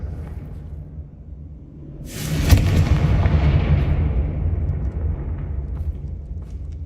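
Explosion spells from the Hogwarts Legacy video game, a sudden loud burst followed by a heavy rolling rumble that lingers for several seconds, close and with no talk.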